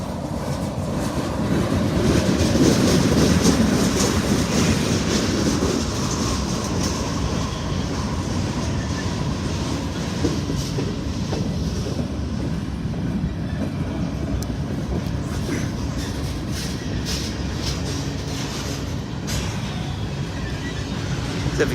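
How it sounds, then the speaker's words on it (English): A long freight train rolls past steadily in Indiana or Kentucky, a loud continuous rumble of wheels and cars with faint clickety-clack, sustained without a break and no voices. "Not sure how long this train is today."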